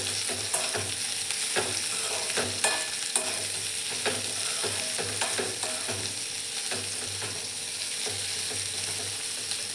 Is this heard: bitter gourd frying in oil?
yes